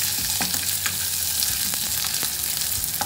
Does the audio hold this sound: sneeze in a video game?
no